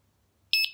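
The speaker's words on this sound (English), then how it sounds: "That's the alarm off. You can notice the difference in tunes." Home security alarm giving a short two-note beep tune as it is switched off by remote, bright and fairly loud, following a brief quiet pause.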